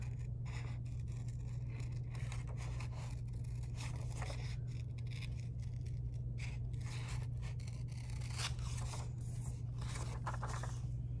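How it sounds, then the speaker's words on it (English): Scissors snip and scrape through paper for an art project, a steady run of close, soft cuts over a constant low hum. "I like to use the inside of my scissors up here."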